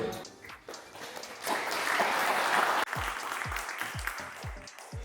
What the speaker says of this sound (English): a big round of applause to these incredible people here today